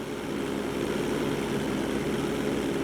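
Propeller plane in GTA 5 coming down for an emergency landing on a road bridge, a steady broadband engine drone holding at constant loudness throughout with no voices.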